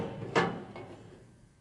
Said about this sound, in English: These are the neck shot doors right here.